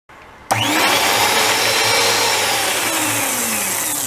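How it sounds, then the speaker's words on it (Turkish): A hand mixer whisking eggs with sugar kicks on and runs loudly and steadily, a constant whirring buzz with slight shifts in pitch as it whisks. "Şekerle beraber biraz daha çırpıyorum"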